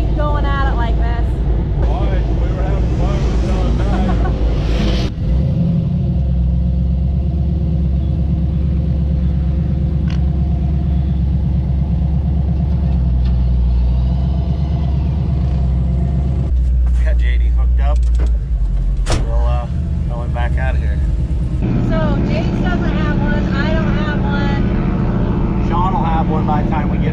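Off-road vehicles drag racing on the Glamis sand dunes: loud, close engine roar and rumble runs throughout, with revving surges and shifts, and people talk over it at times.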